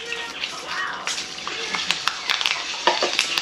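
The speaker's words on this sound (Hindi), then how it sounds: "मेथी फूटना चालू हो चुका है" Fenugreek seeds crackle and splutter in hot oil in a home kitchen, a faint sizzle with scattered sharp pops that grow more frequent toward the end.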